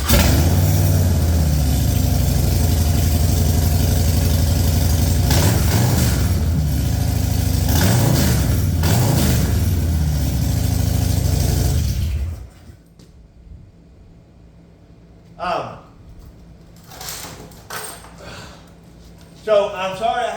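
A 2024 Harley-Davidson Road Glide motorcycle engine with a short exhaust pipe runs loud and close for about twelve seconds, then cuts off abruptly, leaving quiet speech and a few faint sounds.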